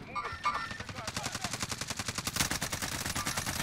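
Rapid automatic gunfire in the shooter game Warzone crackles in a steady, evenly spaced string of shots, moderately loud, while players talk over the shooting.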